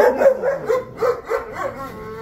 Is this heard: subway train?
no